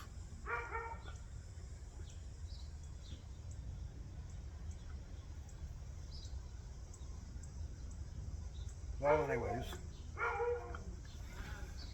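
A dog barks several times indoors, in short bursts near the start and again in a cluster near the end, moderately close, with someone talking quietly in between.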